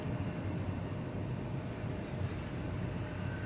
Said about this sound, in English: Got another 717 next in line takeoff, flight 1708 to Huntsville, Alabama